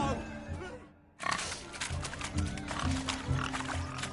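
Pigs grunt in The Witcher 3 video game during a swineherd race, close and repeated, with a short gap near the start followed by dense grunting and ambient game sounds beneath a voice speaking.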